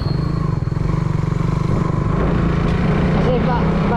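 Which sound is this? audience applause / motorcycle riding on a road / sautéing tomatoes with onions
motorcycle riding on a road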